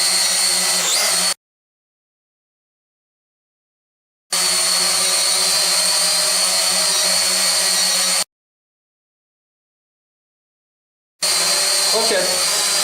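Eachine E520S GPS camera drone flying indoors, its propellers giving a loud, steady high-pitched whir that cuts out abruptly twice, leaving silent gaps between stretches of buzzing.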